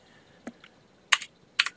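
A few isolated clicks of computer keyboard keys being pressed, close and crisp, in quiet room tone with no talk.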